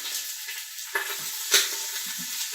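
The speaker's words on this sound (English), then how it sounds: "So now I'm browning up some oxtail." Oxtail browning in a pan gives a soft, steady sizzle and fry crackle, with a couple of sharper spits and pops, quiet and close with no voices.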